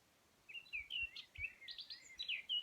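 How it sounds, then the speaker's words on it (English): Several small birds chirp and sing in a quick string of bright, high calls over a quiet background, with a few soft low thumps underneath. "listening to the birds as you imagine a young sapling in the forest."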